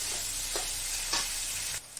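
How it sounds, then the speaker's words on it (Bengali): Onions fry in oil with a continuous sizzling hiss, while occasional clinks and scrapes of a stirring utensil sound against the pan before the sizzle drops near the end. "পেঁয়াজটাকে আমি নাড়িয়ে লো ফ্লেমে ভেজে নেব আস্তে আস্তে"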